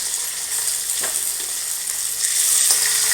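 Crushed garlic and curry leaves fry in hot oil for a tamarind bean curry, a loud, continuous hiss and crackle close to the pan with a few sharp pops, swelling louder toward the end.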